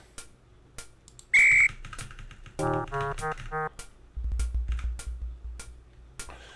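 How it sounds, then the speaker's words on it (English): Whistle blown once in the Waxworks video game, a short shrill high blast, amid sparse clicks, ticks and clacking game sounds and a low rumble later on. "you need to blow the whistle and move quickly"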